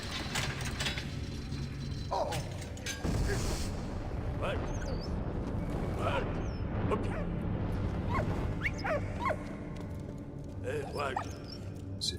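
A dog barks in the World War One game Valiant Hearts: The Great War, with short yips amid mechanical ratcheting and clanking game sounds, fairly quiet beneath someone talking.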